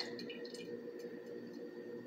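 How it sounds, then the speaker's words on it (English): Pineapple juice is poured into a glass, a soft, faint liquid trickle with small drips and splashes over a couple of seconds. "we're just going to be pouring all the juice in this"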